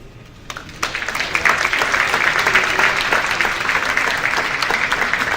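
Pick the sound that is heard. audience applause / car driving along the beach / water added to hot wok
audience applause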